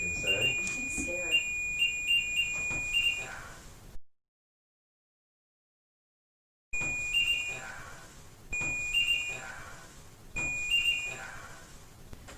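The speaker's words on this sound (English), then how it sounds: "Can you make the REM pod go again? Make it go beep?" A REM pod ghost-hunting device beeps in short bursts during a nighttime ghost hunt in the Long Banta Mansion in Potosi, Missouri. The bright electronic tones repeat several times between quiet gaps, with faint voices beneath.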